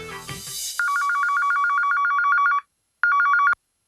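An incoming call sets a phone ringing in a rapid electronic warble, one long trill, a short pause, then a shorter second trill, loud and close.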